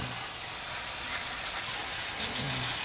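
Cleaner sprayed onto the disc brake parts of a dump truck: a steady, loud hiss of spray running unbroken from start to finish, close by and alone.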